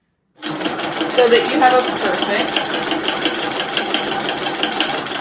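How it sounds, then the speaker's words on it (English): A Grace Little Rebel sewing machine stitches fabric with a steady, fast mechanical whir that starts abruptly and runs continuously, with a person talking over it. "put your foot down and start to stitch."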